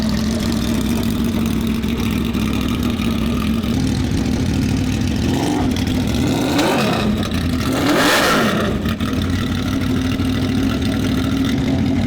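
A Honda VFR800 fitted with an aftermarket turbo warms up at a steady, rumbling idle close by, with a couple of brief throttle blips swelling the engine note before it settles back.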